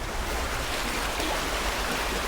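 A river flows with a steady, broadband rushing wash, close and loud, unbroken from start to finish with no voices.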